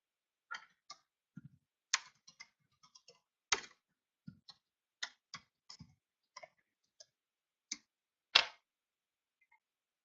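Email being typed on a computer keyboard, sparse irregular clicks and taps of individual keys spaced out with short pauses, quiet and close, with no voices.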